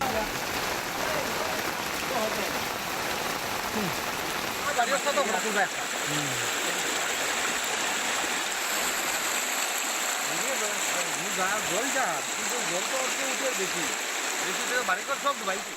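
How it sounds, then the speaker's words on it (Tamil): Heavy rain and floodwater in Nagaon district, Assam, make a dense, continuous wash of rushing water and rainfall, steady and close throughout, with no clear voices. "அசாம் மாநிலம் நாகோன் மாவட்டத்தில் தொடர் கனமழையால் பல்வேறு பகுதிகள் வெள்ளக்காடாக காட்சியளிக்கிறது"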